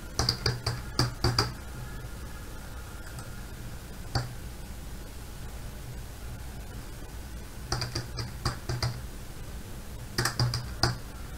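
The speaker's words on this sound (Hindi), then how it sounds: "कीबोर्ड से आपको एंटर मारना है" Key presses on a computer keyboard while pattern-making software is in use, coming in short clustered bursts of clicks with quiet gaps between them, plus a lone tap near the middle, over a low steady room hum.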